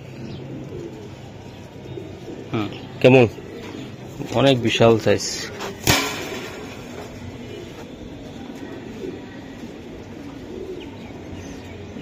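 A large grizzle racing pigeon of foreign bloodline coos in a few short, low bursts, nearby. The cooing sits under ongoing conversation between men, with other background noise around it.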